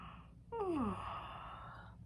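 A person yawns once, a single drawn-out vocal yawn that slides downward in pitch and fades into a soft breathy tail, close and fairly quiet.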